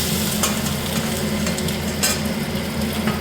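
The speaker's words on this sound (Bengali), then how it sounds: "এই যে ডিম ভাজছি এখন।" Eggs frying in a pan in a home kitchen give a steady, close crackling sizzle with light popping throughout, with no voices.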